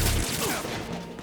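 Gunfire in the Metal Gear video game comes as a single loud, dense burst of shots at the start, then decays into a brief noisy tail.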